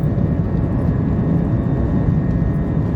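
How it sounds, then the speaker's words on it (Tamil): An IndiGo airplane moving during takeoff, heard from inside the cabin as a steady, loud low-frequency engine and airframe roar that stays even throughout, with no talking. "ஃப்ளைட் எடுத்துட்டாங்க, மூவ் ஆகிட்டு இருக்கு."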